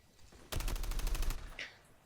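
A rapid burst of about ten hip-fire gunshots rings out at close range in Call of Duty Mobile, loud and evenly spaced over roughly a second, followed by a short fading tail.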